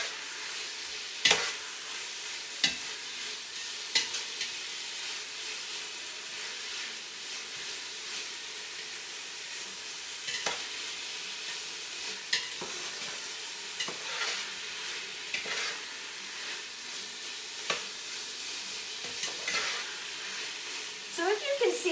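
Food sizzles and hisses steadily in a hot pan, with repeated scraping clicks of a utensil stirring the vegetables.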